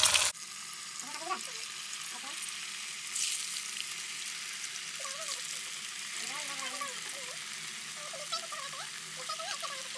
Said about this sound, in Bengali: তেল গরম হয়ে গেছে এখন এক একটা করে দিবে